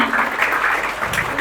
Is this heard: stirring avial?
no